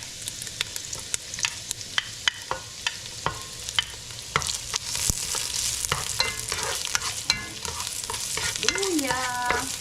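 Sliced ginger sizzling in a hot pan as the base for Filipino chicken tinola, steady crackling fry with repeated sharp scraping stirs of a utensil, close and alone.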